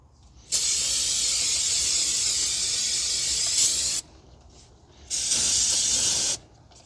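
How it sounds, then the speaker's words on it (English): Two sharp bursts of brake cleaner sprayed on a 2019 Honda Civic's brakes: a long hiss of about three and a half seconds, then a shorter one, close up, with near silence between. "Spray with some brake cleaner."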